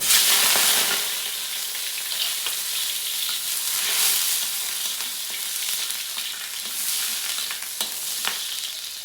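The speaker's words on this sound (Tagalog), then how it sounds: "Gisa natin tong bawang, sibuyas bawang." Garlic and onion sauté in hot oil for misua with patola, a steady broadband sizzle with occasional soft stirring scrapes, heard alone with no talking.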